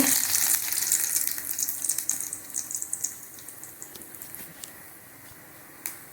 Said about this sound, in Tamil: 1 டீஸ்பூன் கடலைப்பருப்பு, 1/2 டீஸ்பூன் சோம்பு போட்டு நல்லா பொரிக்கிட்டுங்க.